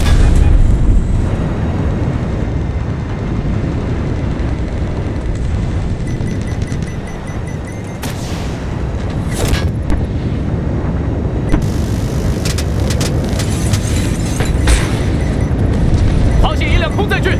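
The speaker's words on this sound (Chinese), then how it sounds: "敌人直升机在我们上空！" An enemy helicopter flies overhead in the Delta Force video game, a loud, continuous rotor and engine roar mixed with bursts of combat noise, with voices over it.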